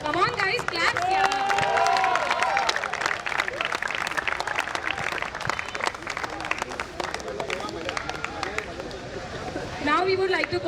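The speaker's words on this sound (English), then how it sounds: "Come on guys, clap here." Audience applause at a volleyball league prize ceremony, steady dense clapping with crowd murmur running throughout, loud and close, easing slightly mid-way before swelling again near the end.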